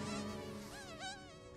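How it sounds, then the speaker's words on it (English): A mosquito buzzes in a thin, wavering whine that rises and falls as it flies close by in a comedy film scene, continuous and alone with no speech. "A killer mosquito?"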